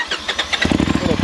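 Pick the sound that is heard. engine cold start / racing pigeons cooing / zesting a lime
engine cold start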